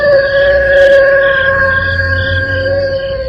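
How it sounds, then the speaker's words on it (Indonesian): Wolves howling in a drama scene, long sustained tonal howls holding steady and overlapping in a loud chorus throughout, with a low rumble beneath. "Itu suara teman-temanmu, para serigala."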